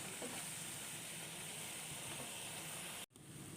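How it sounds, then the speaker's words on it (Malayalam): Onion and masala paste bubbles and sizzles in a pan for an anchovy fry, a steady close hiss with faint spitting that cuts off abruptly near the end. "മസാലകളെല്ലാം ഒന്ന് നന്നായിട്ട് തിളച്ചൊന്ന് വേകണം"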